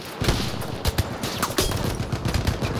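Gunfire in a Battlefield 1 domination match on PC: rapid bursts of automatic fire and scattered single shots, dense and loud throughout, with no talking.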